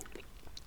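PK chewing gum, a Wrigley's brand, is chewed close to the microphone in a quiet ASMR setting, giving soft, wet clicks and smacks.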